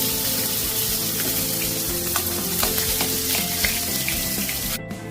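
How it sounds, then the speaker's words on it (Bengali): Fish fry in hot oil with a dense, even sizzle that stays steady throughout, with faint crackles and pops close by. "মাছ ভাজা হয়ে গেছে, মাছটা তুলে দেব।"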